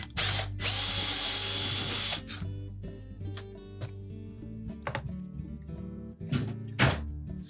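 A power driver whirs in a loud burst as a screw is backed out of the rear console of a Whirlpool range, followed by softer clicks, clunks and metal handling nearby.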